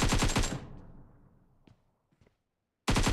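Rapid gunfire bursts from the mobile game PUBG Mobile, with a quick string of shots that decays into a fading echo, followed by a brief pause before another loud burst starts at the end.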